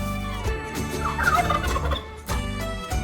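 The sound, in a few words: turkey gobbling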